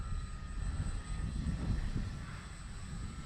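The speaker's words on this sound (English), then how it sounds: "I really do enjoy flying this plane" A Dynam Waco RC model biplane drones steadily overhead, its small electric motor holding a fairly even, moderately distant hum for a few seconds with no talking.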